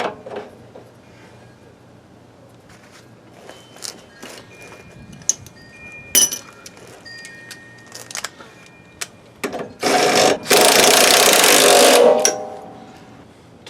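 A bolt is tightened during a rear 4-inch lift install on a 1999-2004 Jeep Grand Cherokee. Scattered light metallic clicks and taps lead into a loud, close two-part burst of mechanical whirring near the end.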